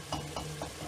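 Onions frying in a pan as water is added for arvi gosht salan, giving a soft steady sizzle with three short stirring scrapes at a regular rhythm.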